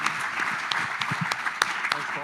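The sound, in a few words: round of applause from the audience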